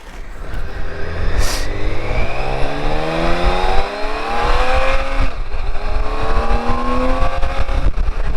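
A BMW K1600 GT sport touring motorcycle accelerating hard, its engine note climbing repeatedly through several gear shifts, loud and close with wind rush behind it.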